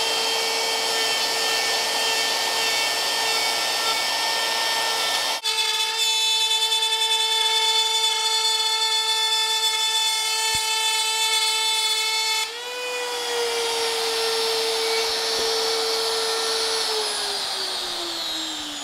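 A router makes a shallow climb cut along a wooden table apron, a steady loud high whine with a sharper cutting tone in the middle stretch and a slowly falling pitch at the end.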